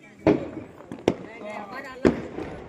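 Firecrackers go off during a festival night celebration, three sharp bangs at roughly even intervals, loud and close, with voices chattering and crowd noise continuing between the bursts.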